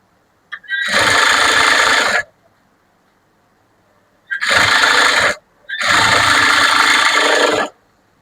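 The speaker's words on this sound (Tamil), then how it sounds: "திருப்பிட்டு நமக்கு ஒரு 1/4 இன்ச் அளவுல தையல் போடலாம்." Sewing machine stitching blouse fabric, three bursts of rapid whirring stitching, about a second and a half each, loud and close with quiet pauses between, no talk.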